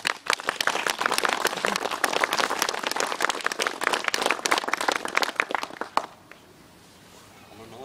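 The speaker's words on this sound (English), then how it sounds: "Can I ask you for a round of applause, please?" A crowd outdoors at a bench unveiling for Stuart Adamson gives several seconds of lively, close clapping, which dies away abruptly into quiet background.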